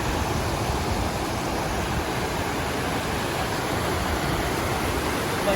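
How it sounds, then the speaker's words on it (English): A river rushes past in a steady, dense broadband roar with no breaks or voices, swollen after heavy rain. "of water flow coming here from the river now"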